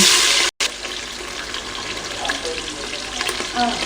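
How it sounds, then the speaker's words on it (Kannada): Onions frying in hot oil with garam masala in a home kitchen, a continuous moderate sizzle and crackle with light stirring, broken by one very brief dropout near the start. "ಆನಿಯನ್ ಚೆನ್ನಾಗಿ ಫ್ರೈ ಆಗಲಿ"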